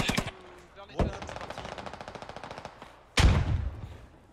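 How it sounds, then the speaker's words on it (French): Video game machine gun fire: a sharp opening blast, then a steady rapid burst of evenly spaced rounds, and a heavy boom near the end. Loud and close, with a player speaking faintly under it. "On envoie de la MG, on envoie tout ce qu'on a les gars."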